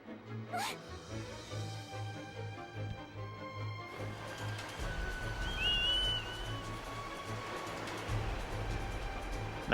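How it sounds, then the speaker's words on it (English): A short rising whistle call summoning the Loftwing in Zelda: Skyward Sword, sounding once midway over steady game music and ambient wind noise. "Just like that, I'll whistle."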